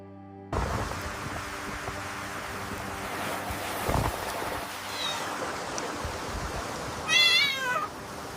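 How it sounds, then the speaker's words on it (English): AI-generated sound effects of water and a kitten: steady surf-like water and wind throughout, with a couple of short kitten meows rising near the end. "We even got some sound effects for the water and the kitten."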